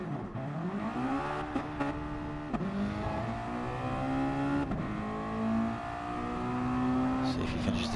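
Mazda MX5 Modi-5 Cup race car engine on an onboard practice lap at Kirkistown, revs climbing and dropping through gear changes in a steady loud drone, with a commentator talking over it.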